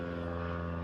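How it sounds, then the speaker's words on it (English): A fixed-wing propeller airplane flies overhead outdoors, a steady droning hum with strong engine harmonics, fairly loud and continuous with no talking. "Excuse the plane because there's been like 15 planes flying over right now."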